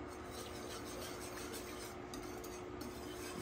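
A whisk scrapes steadily through white country gravy in a pan, making a continuous soft rasping stir that runs evenly throughout with no pauses or voices.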